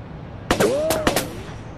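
Gunfire in the sci-fi adventure game Technobabylon, a quick burst of three or four sharp shots close together, loud and near, with a ringing electronic tone between them.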